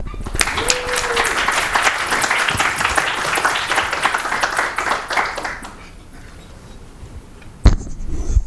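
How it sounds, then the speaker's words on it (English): A lecture-hall audience at a renal grand rounds gives a round of applause, dense clapping for about five seconds that fades out, followed by a quieter stretch and a sharp bump near the end. "And please give him a great round of applause"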